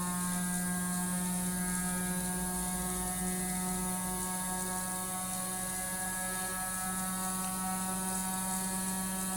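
A battery-powered gyroscope motor spins at about 8,000 to 9,000 RPM, making a steady, quiet tonal whine with a layered hum that holds constant throughout.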